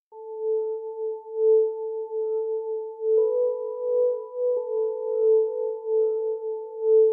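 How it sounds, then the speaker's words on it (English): Universal Audio Opal morphing synth playing a steady, pure sustained tone with a faint higher overtone, shifting pitch slightly midway and pulsing gently in level, alone without any voices. "For it, I'm using the Opal morphing synth from Universal Audio."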